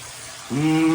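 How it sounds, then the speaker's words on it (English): Water rushing down a drain after the plug is pulled in a bungalow renovation, starting halfway through as a sudden loud gush with a steady tonal ring, close by. "The plug is off, we've got water running down."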